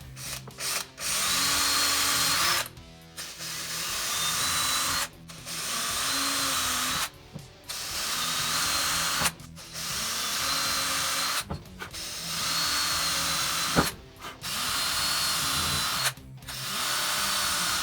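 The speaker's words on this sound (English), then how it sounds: "And then all I gotta do now is just drill them all out." A power drill whines in repeated bursts of several seconds each, boring holes into the wooden body of a homemade electric guitar, with short pauses between holes; close and loud.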